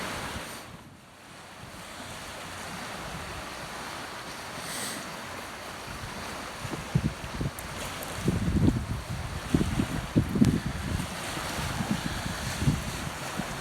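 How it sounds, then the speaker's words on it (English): Waves wash onto a beach on the West Highland Way in Scotland, a steady surf hiss joined by wind buffeting the microphone. Irregular splashes and low rumbles grow louder toward the end, with no voices. "this is our private beach, which is absolutely beautiful"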